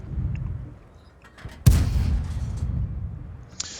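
A Type 64 light tank in World of Tanks fires its gun: one sudden loud boom with a rumbling tail, preceded by quiet battle ambience.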